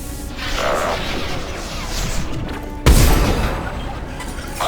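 Gunfire in a Mass Effect battle sounds as a steady, dense rattle of shots and whooshes, with one sharp, loud blast partway through.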